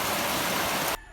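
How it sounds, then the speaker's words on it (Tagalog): Heavy rain pours down as a dense, steady hiss of broadband noise that cuts off abruptly near the end, leaving only a faint low rumble. No one speaks. "Kusog jud kayo ang ulan"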